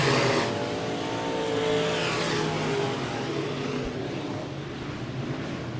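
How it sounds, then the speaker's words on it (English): Stock cars roar around the track at Raceway Park during a night of heat races, a loud continuous engine drone with overlapping cars swelling and passing, fading slightly toward the end. "Hammond now down to the low side, trying to regain some ground in that 29J McLaren car"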